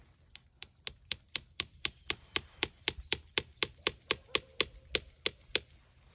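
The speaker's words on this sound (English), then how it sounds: "So you drilled a 5/16 hole for these stainless steel taps, and you just drive it in there till it's snug" A stainless steel maple syrup tap is driven into a drilled 5/16-inch hole in a tree with about twenty steady, evenly spaced hammer blows, sharp metallic knocks that ring close and clear with no talking.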